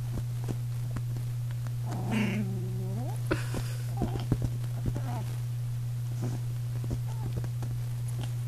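A chihuahua puppy in a timeout throws a fit, giving whiny, yowling cries and a few short yelps over a steady electrical hum, with scattered tapping and thumps nearby.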